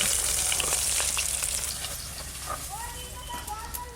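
Puti fish fry in hot oil, a steady bright sizzle and crackle that softens gradually, with a voice faintly underneath.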